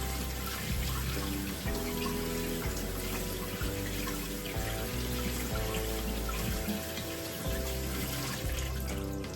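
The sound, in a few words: washing lentils under running water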